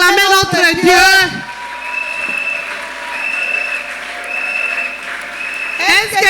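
A church congregation applauding in worship, a dense burst of clapping that fades to a steady hum with a faint tone, then clapping rising again at the end, with singing voices over it at the start.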